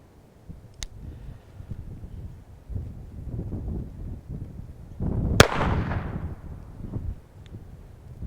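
A single sharp gunshot rings out outdoors as a gun is fired at a target, preceded by a smaller click-like snap; wind rumbles across the microphone throughout.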